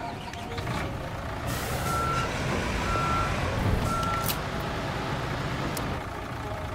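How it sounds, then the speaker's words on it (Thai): A cement mixer truck reverses in the Construction Simulator game, its steady engine rumble under a run of evenly spaced reversing beeps, loud and close with no talking. "เดี๋ยวผมเอารถปูนมาเทนะ"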